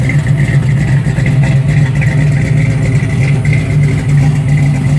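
A 1967 Camaro with a new 383 stroker engine idles slightly rich, its exhaust heard from the rear as a loud, close, steady rumbling drone with no talking.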